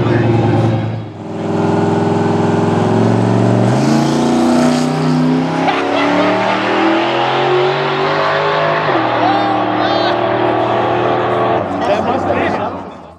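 A Tesla and a Mustang launch side by side at a drag strip, a loud engine roar rising in pitch through several gear changes as the cars pull away, with a crowd and voices underneath.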